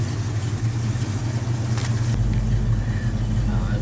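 A 1970 Mustang fastback's engine idling with a low, steady rumble close by, and a deeper tone settling in partway through.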